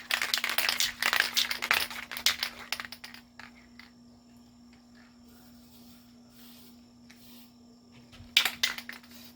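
Aerosol paint hisses in sharp, close bursts as a coat goes onto a rifle barrel, with a steady faint electrical hum underneath, a quiet pause in the middle and one more spray burst near the end.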